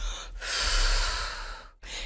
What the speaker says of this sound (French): on expire en comptant lentement jusqu'à 5